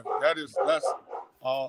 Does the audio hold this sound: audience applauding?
no